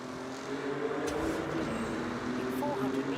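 A car driving through a tunnel in Forza Horizon 6, a steady droning engine hum with echoing road noise and a faint chime, while a person talks over it.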